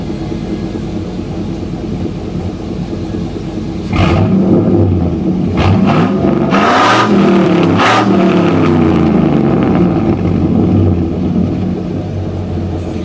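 A pickup truck's engine runs with a 3-inch turbo muffler, turbo tube and Y-pipe exhaust. A steady idle rumble gives way to several loud, deep revs that rise and fall, heard up close with no talk.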